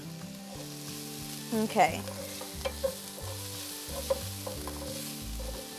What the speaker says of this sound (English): You want to move them around the pan so none of them is actually burning or getting too brown